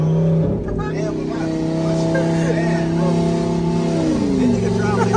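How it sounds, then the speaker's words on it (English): A Dodge Hellcat's engine rumbles loudly and steadily with a deep, sustained tone that shifts pitch near the end as the car is driven. "I'm driving a Hellcat."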